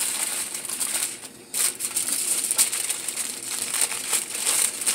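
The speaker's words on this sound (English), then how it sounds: "I'm going to put the foil on top. Like that. Fold over the edges." Aluminum foil crinkles close up as its edges are folded over a dish bound for a gas grill, a dense, continuous crackle with one brief lull partway through.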